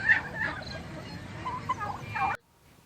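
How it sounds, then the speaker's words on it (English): Turkeys on a farm in Uganda give a few close warbling, gobbling calls over a low background murmur of the flock, ending abruptly in near silence. "These are what we call turkeys."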